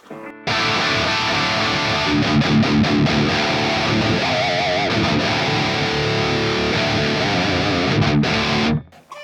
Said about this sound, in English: So distorted tone, make it even more distorted.